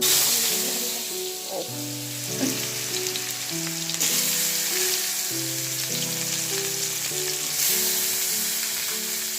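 Panch phoron spices crackle and sizzle in hot oil in a pan, a dense close frying hiss with steady music running underneath and no talking.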